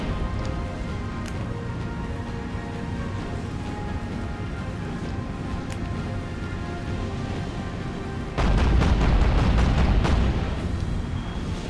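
Naval broadside gunfire in Battlestations Pacific, Battle of Cape Esperance: a steady loud rumble of battle noise, then a sudden heavier burst of booming cannon blasts about two-thirds through that stays loud to the end.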